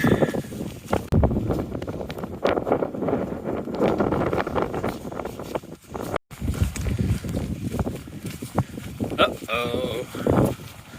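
Wind buffets the microphone on a Scottish highland trail, gusting in uneven rough bursts close up throughout, with a person speaking over it at times.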